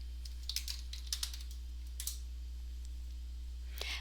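Several sharp mouse clicks in computer building-design software, scattered lightly over a quiet steady hum with no talking.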